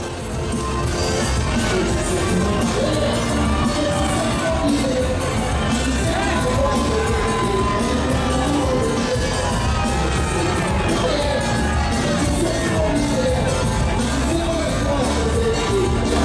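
Dense crowd at a May Day political rally outside Port-Louis town hall cheers and shouts continuously, whoops and raised voices rising from a steady, loud roar that never lets up, with what sounds like music or amplified sound mixed underneath.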